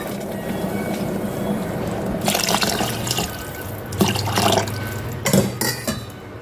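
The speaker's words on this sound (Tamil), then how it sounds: "அந்த படியிலேயே அந்த தண்ணியை ஊற்றிடலாம்" Water splashes and pours into a metal pot in a few bursts, with clanking of the vessel between pours, close and fairly loud.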